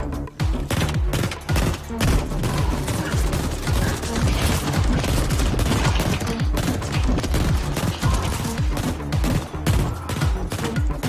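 Sustained automatic gunfire from auto-homing bullets in the video game The Ascent, a loud, dense fusillade of rapid shots with heavy booming impacts running continuously throughout.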